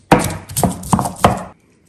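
Garlic and a small piece of onion are ground in a stone molcajete with four sharp, heavy pounding strokes in an even rhythm, close and loud, with no talking.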